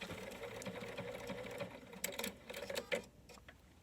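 A sewing machine runs a triple straight stitch through heavy webbing, a steady fast mechanical whirr and rhythmic needle thumping that continues for a few seconds, close and fairly quiet, then slows and stops with a couple of clacks.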